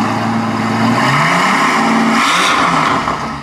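Straight-piped Mercedes S65 AMG with a 6.0-litre V12, engine revving loud and close with a rising then falling roar and faint crackling pops from the exhaust near the end.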